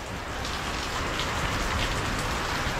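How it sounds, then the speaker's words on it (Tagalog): Heavy rain pours down in a steady, loud, unbroken hiss and patter on surfaces, with no talking. "Lakas ng ulan, grabe."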